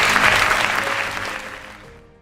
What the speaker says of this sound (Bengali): আমার জন্য একটা জোরে করতালি